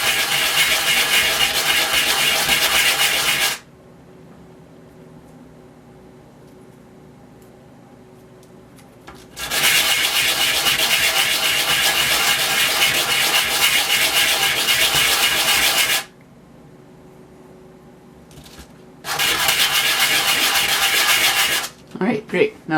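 Top and bottom surfaces of a wooden ring smoothed by hand, three long bursts of steady, close scratchy rubbing broken by quiet pauses, the last burst ending in a few short strokes.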